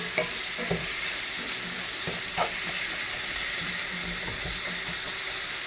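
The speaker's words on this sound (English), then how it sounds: "I'm going to begin to add the water and the rice" Water and rice hit hot turkey grease in a pan, giving a continuous loud sizzle and frying hiss with a few soft stirring knocks and bumps, no voices.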